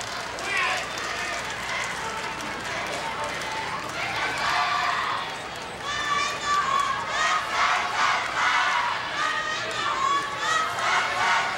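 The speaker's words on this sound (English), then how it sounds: "Length of the game hasn't dampened the spirits of the crowds from Chinese Taipei and Japan. They're still chanting and cheering." Crowds of Chinese Taipei and Japan fans at a baseball game between Tokyo Kitasuna and Taiwan chant and cheer: a continuous, rhythmic stadium roar with pulsing chants swelling in the second half.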